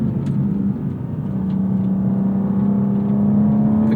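A 2026 BMW M2 CS G87 drives along with carbon bucket seats and retuned suspension. Its engine holds a steady, close drone with a low rumble and a slight rise in pitch toward the end. No one talks.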